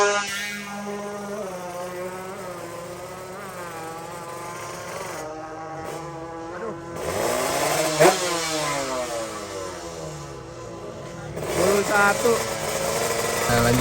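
A two-stroke motorcycle revs hard at a drag race, its loud buzzing engine note rising and falling over about fourteen seconds, with background noise from the event.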